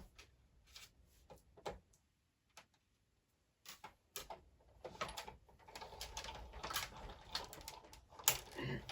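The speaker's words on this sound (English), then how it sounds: "I'm going to pop this through my die cut machine, and we're going to run this through just like so." Card stock being fed through a die cut machine, soft clicking and ticking of the rollers turning close by, with quiet pauses and a rising mechanical rumble as the plates pass through.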